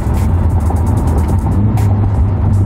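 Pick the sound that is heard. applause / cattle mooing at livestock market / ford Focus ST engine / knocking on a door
ford Focus ST engine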